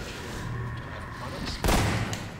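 A grenade detonates in Half-Life 2 with a single loud, sharp blast partway through, set against ongoing game combat noise and rumble.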